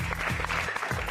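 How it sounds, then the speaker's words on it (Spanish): Audience applause in a studio setting, a brief steady burst of clapping at moderate level with a voice faintly present underneath. "Sol Rivarola, por favor, un aplauso"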